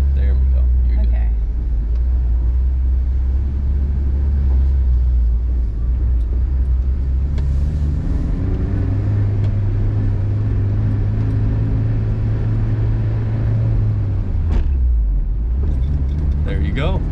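A Honda S2000 with a manual gearbox pulls away jerkily as a learner works the clutch, its low engine rumble steady and close, then rising in pitch and dropping off. Voices can be heard over the engine.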